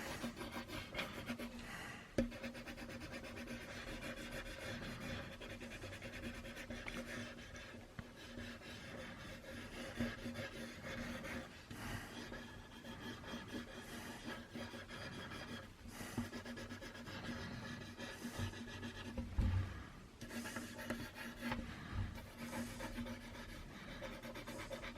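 Pencil scribbling on paper while shading a realistic portrait drawing: continuous soft scratchy rubbing with varying stroke rhythm, close but faint, with a few louder taps and bumps.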